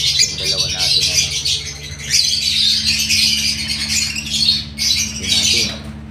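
Fledglings squawk insistently in loud, rasping bursts close at hand, the calls overlapping in waves with brief dips over a steady low hum.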